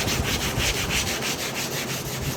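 Sandpaper is rubbed over a wooden block in fast, even back-and-forth strokes, a close, continuous scratchy rasp with a regular rhythm and no speech.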